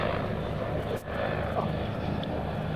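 Steady CH-146 Griffon helicopter rotor and turbine roar at the 2004 Cold Lake International Airshow, fairly distant and continuous, with a brief dip partway through and faint voices beneath.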